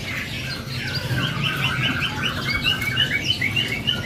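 A Star Blue canary sings a bright, continuous run of rapid chirps and trills, fairly close, over a low murmur of background noise in a bird shop.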